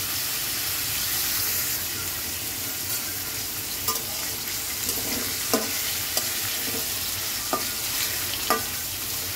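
Drumstick leaves frying with green chili as they are stirred in a pan, a constant close sizzle broken by several sharp scrapes and taps of the spatula against the pan.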